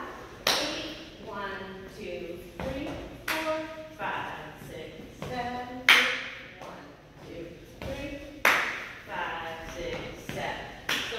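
Hand claps during a solo jazz dance class, sharp single claps recurring roughly every two seconds in time with the counted steps, mixed with light foot taps and shuffles while an instructor talks over them.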